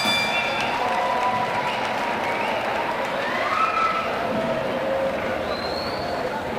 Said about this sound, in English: Crowd bristling, shouting